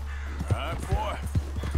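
Rhythmic hoofbeats from a black horse in Red Dead Redemption 2, regular close clip-clop steps with a voice sounding over the middle of the clip and a low steady hum beneath.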